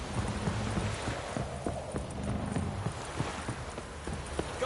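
Horse hooves clip-clop at a steady walking pace in the video game The Witcher 3, rhythmic and moderately quiet over a low ambient hum.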